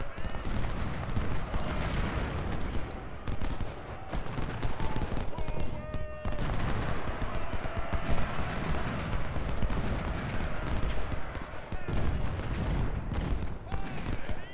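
Dense, continuous battlefield din of musket and artillery fire in the Ultimate General: Civil War game, Siege of Jackson, with overlapping shots and booms sustained loudly throughout, under scattered voices.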